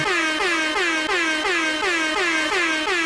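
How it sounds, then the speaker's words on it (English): A loud air horn blares continuously, pulsing in a steady repeated rhythm without a break, with no voices. "Another air horn."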